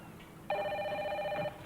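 A telephone bell rings in a 2003 French TV drama: one steady electronic ring lasting about a second, cutting in sharply over a quiet room and stopping abruptly, with no voices.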